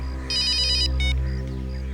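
A mobile phone ringtone plays two short bursts of bright electronic tones over a low steady hum, clear and close, with no talking.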